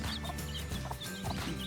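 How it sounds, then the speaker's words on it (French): Near a brood of chicks only a few days old, a mother hen clucks in soft, repeated bursts, close and steady over a low farmyard background, with no voices. "Donc voilà maman poule qui est au travail"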